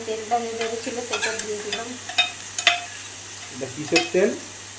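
Bursts of sizzling as bay leaves hit hot fish-frying oil, with stirring scrapes, a few crackling spurts spaced irregularly, close and fairly loud.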